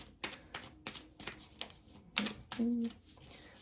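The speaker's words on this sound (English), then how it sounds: "This deck is a little smaller, so I have to shuffle it differently" A small deck of tarot cards is shuffled in a series of soft, quick riffling and tapping bursts, close to the microphone, with a few brief tonal clicks in between.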